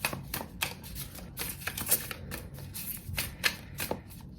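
Tarot cards are shuffled in quick, crisp riffling bursts, a close, soft flutter repeating again and again with no talking.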